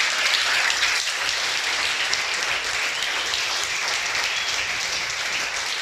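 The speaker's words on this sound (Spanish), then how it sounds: "le da un aplauso a Dios de alabanza" A church congregation claps in a dense, sustained burst of applause that stays loud and even throughout, with no voices standing out.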